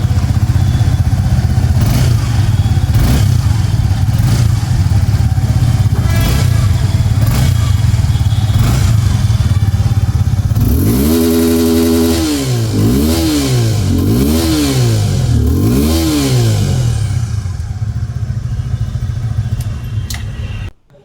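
A 2026 Suzuki Gixxer 250 motorcycle with a chrome-finished double-barrel exhaust idles loudly and close, then revs up and down several times before settling back.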